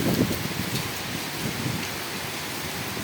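Heavy rain pours down over Gulshan in Dhaka, a dense steady hiss of downpour drumming on surfaces, close and continuous for the whole stretch with no voices.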